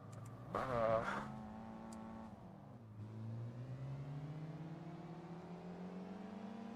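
In Gran Turismo 4, a car's compressor-fitted engine whines steadily as it climbs through the revs, a rising tonal drone with a brief louder burst early on and a gear change partway through.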